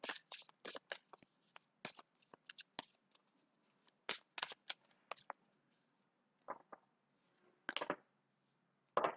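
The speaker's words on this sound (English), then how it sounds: "So let me pull few cards from my Shaman Oracle." Shaman Oracle cards being shuffled and handled: soft, quick riffling and sliding bursts in irregular clusters, close but quiet, with short gaps between flurries.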